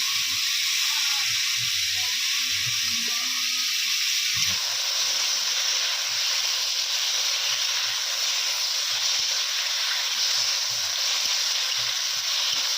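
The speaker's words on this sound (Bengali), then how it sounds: "টমেটো পেঁয়াজ কালি ভাজার জন্য তাড়াতাড়ি 1/2 চামচ লবণ দিয়ে দেবো" Onions, tomatoes and onion stalks fry in a pan in a village kitchen, giving a steady, close, continuous sizzle and hiss with a few soft clinks early on.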